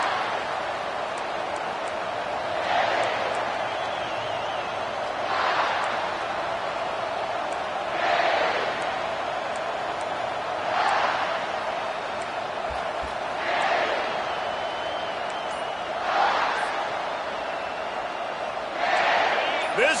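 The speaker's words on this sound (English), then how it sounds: "This crowd trying to show them what it's going to be like all day in this house." A football stadium crowd roars at a season opener, a broad, steady wash of cheering with regular swells, while voices talk over it throughout.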